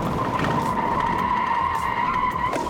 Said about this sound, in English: in this next corner, we'll understeer a little bit and see what happens as we get into a skid.